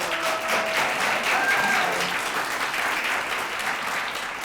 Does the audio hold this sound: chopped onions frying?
no